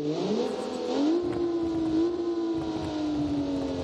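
A drift car engine in BeamNG revs up and holds a high, steady whine, rising in pitch then droning on loudly with a rough rumble underneath.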